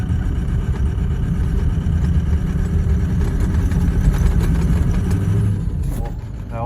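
A Ford 6.0 litre engine runs after a cold start following a snow storm, giving a steady, loud, low rumble that holds for several seconds before easing off near the end.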